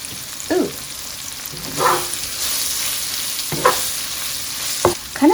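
Chicken pieces for Kung Pao chicken fry in hot oil in a pan with a steady, close sizzle, broken by about five brief scraping stirs and flips spaced a second or so apart.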